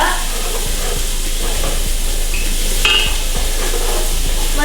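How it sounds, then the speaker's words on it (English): Stew vegetables, peppers and onion, are stirred in a pot over lowered heat, a loud continuous sizzle with soft periodic scraping strokes, close and alone. "Gonna stir that up."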